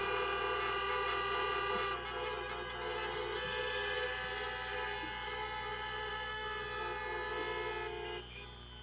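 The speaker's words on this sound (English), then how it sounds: "Give me a honk if you are." Car horns blare together in a long, sustained chorus at an outdoor election rally in Saskatoon, loud and steady before dropping off near the end.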